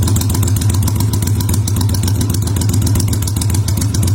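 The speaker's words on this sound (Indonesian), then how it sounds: "Suaranya cukup gahar sekali, mirip dengan Harley Davidson." A Kaisa Ruby V250 motorcycle engine idles loudly and close by, with a deep, steady, rapid pulsing throb that holds even throughout, with no other sounds.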